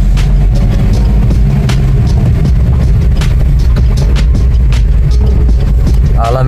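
Dense, loud traffic at a signal on Nagar Road in Pune during rain: a constant low rumble of idling and creeping cars and motorbikes, with engines revving close by and a brief horn-like tone near the end.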